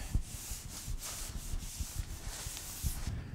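Wet sanding a patch on a water-damaged drywall ceiling, a quick rhythmic rubbing with repeated short strokes close by, steady and moderately loud with no talk.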